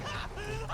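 A chicken in a Roblox video game gives one short, nasal cluck, heard close and clear in a brief burst.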